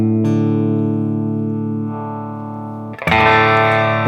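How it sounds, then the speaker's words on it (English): Low notes played through a Mesa Boogie Mark amplifier with the treble turned up ring out thick and distorted; one long sustained note fades before a sharp new attack near the end. "listen how much difference it makes if I turn the treble up"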